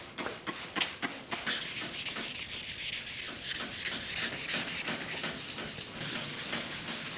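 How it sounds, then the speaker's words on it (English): Hand sanding of paint on a 1953 GMC truck body: close, brisk rhythmic scraping strokes repeating steadily, with no talking. "So let's jump in and just start sanding away."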